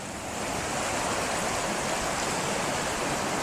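Twenty Mile Creek at Hedley, British Columbia, rushes past in autumn, a steady, close broadband wash of flowing water that continues without a break and without voices.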